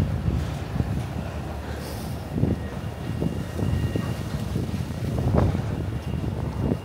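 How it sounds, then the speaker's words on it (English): Gusty wind rumbles against the microphone on the High Line in Manhattan, uneven bursts of low roaring noise that swell and fade throughout. "There's a good wind up here."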